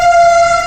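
A short, loud, steady tonal horn blast from the Mumbai CSMT to Shirdi Vande Bharat Express, train 22223, as it arrives, heard up close with no talk.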